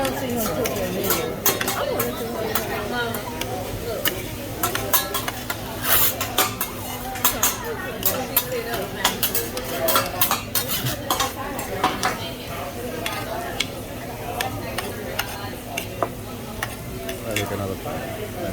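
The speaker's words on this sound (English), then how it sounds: "I want to see him cook your noodles." Noodles stirred and sizzling on a teppanyaki grill at a Japanese steakhouse, with steady frying hiss, frequent metal spatula clanks and scrapes against the hot plate, and diners chattering in the background.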